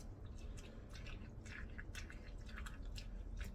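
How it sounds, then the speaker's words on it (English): A wooden spoon pushes into jarred cucumber salad for debubbling, producing soft, wet squishes and faint drips up close, quiet and continuous without speech. "I'm gonna do some debubbling, which is just pushing the wooden spoon into it just to bring up any bubbles"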